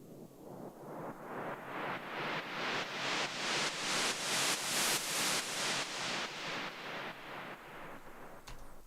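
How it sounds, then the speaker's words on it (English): White noise riser in a hard trance track: broadband hiss rising steadily in brightness and loudness, pulsing rhythmically in time with the beat, peaking and then falling away, heard alone. "first we have some white noise risers"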